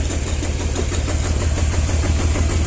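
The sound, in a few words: Honda Vario 110 motorcycle engine being started again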